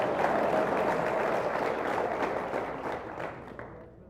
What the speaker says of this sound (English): but give him a round of applause.